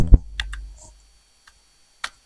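On a computer keyboard, Ctrl Shift F3 is pressed, giving a few sharp, close, isolated key clicks with silent gaps between them.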